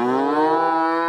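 A cow gives a single long, clear moo lasting about a second, loud and close with no other sounds.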